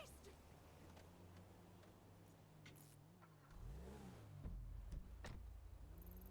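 A car engine idles and then revs with rising and falling pitch in a video game, fairly quiet, with someone talking over it.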